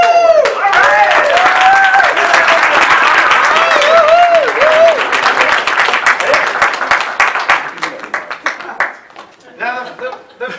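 Audience at an Orators club event in the US roaring and cheering in response to the host, loud crowd voices and applause filling the room, then thinning into scattered clapping and chatter.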